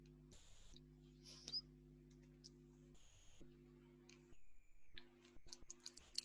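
Single soft computer mouse clicks on a button, brief and quiet, set against a low steady electrical hum with faint background noise.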